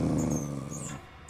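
A Minecraft dog growls low and continuously after being woken, a steady rumbling snarl close up that tapers off near the end, with no talking over it.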